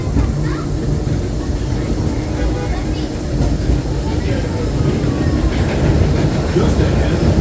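The Disneyland Railroad train runs along the rails near New Orleans Square Station with a steady, loud rumble and faint wheel clatter. Other sounds in the background are mostly masked by the running noise.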